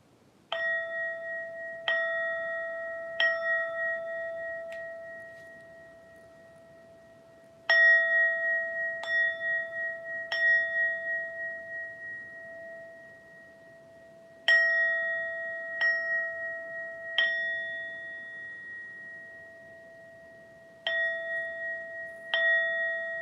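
A small bell is struck repeatedly in clusters of three or four strokes, each clear metallic ding ringing out and slowly decaying into quiet before the next group.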